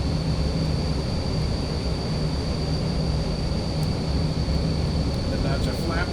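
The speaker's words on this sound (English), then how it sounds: "I can turn the engine sounds down, and that will help kill some of this" Simulated engine drone of a Carenado Premier 1A business jet in a flight simulator, a steady close whine and rumble with a constant high tone, running continuously while someone talks over it.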